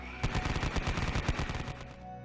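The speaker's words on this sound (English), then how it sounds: "The NCO of the Volksgrenadier squad opens fire with the MMG on the top" Rapid bursts of medium machine gun fire from the roof-mounted MMG on a Hanomag half-track, a sound effect in a tabletop wargame battle. The shots are loud, close and evenly spaced, with no talking.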